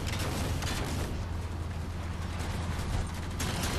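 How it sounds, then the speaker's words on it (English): A Mantis mech in the shooter Halo 4, heard as a steady, loud mechanical grinding and clanking with low rumbling, continuous throughout without any talk. "That's a mantis."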